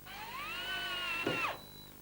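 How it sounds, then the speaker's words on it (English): A power drill spins up and whines steadily while boring a clearance hole in a timber model railway baseboard frame, then winds down; quiet and alone. "drill a 3/16 or 5mm clearance hole for the screws"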